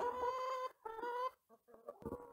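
Chickens clucking close by in a snowy village yard, a couple of loud sustained calls followed by short broken clucks, with no talk.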